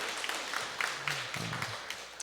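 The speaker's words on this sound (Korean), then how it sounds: "우리 박수로 함께 환영하겠습니다" A church congregation at a worship service claps to welcome first-time visitors, a soft, fairly distant patter of scattered applause with a few louder claps.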